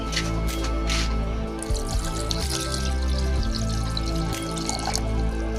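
Water is poured into a cooking pot holding squash, a close gurgling and splashing pour with drips that fills the short span.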